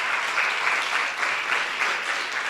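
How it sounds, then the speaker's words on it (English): An audience applauds poets at a closing ceremony, a dense, steady wash of many hands clapping close by at an even level with no talk over it. "So could we give them a round of applause one more time?"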